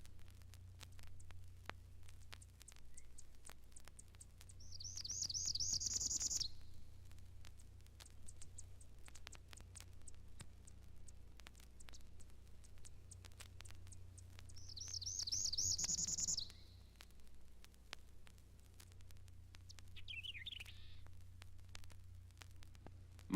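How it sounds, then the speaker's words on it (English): A Parula warbler sings in a mountain lake sanctuary: two clear buzzy rising trills several seconds apart, plus a fainter third phrase, over a low steady background hum. "The Parula warbler represents the many warblers that migrate through the sanctuary and the few that stay here."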